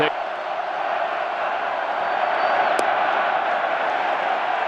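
A home crowd at a Phillies baseball game against Atlanta roars in a sustained, steady wave of cheering that fills the whole clip, with a brief sharp accent near the middle.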